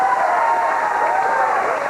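A studio audience at a comedy talk show applauds, filling the whole moment with dense, steady clapping and crowd noise.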